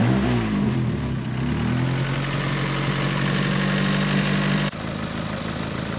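A Mk3 Ford Escort engine rumbles nearby, its pitch rising briefly as it revs, then settling into a steady idle before cutting abruptly near the end; a noise comes from underneath, near the flexible exhaust section.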